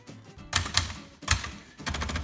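A 1971 Brother Webster XL-747 manual typewriter being operated at the margin release, producing three loud, close mechanical clatters and bursts of typebar strikes separated by brief pauses.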